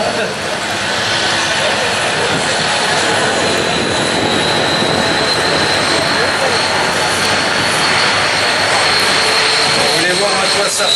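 A French Air Force Transall C-160 military transport aircraft's engines roar loudly and steadily during an assault landing at La Ferté-Alais airshow, a broad continuous drone with a high whine on top.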